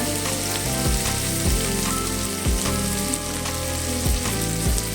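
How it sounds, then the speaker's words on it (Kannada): Steady crackling sizzle of vegetables frying in a pan for a soybean and broad bean vegetable pulao, continuous and close with occasional soft stirring knocks and no talk. "ಈಗ ನಾನು ಫ್ರೈ ಮಾಡ್ಕೊಂಡಿದ್ದೀನಿ."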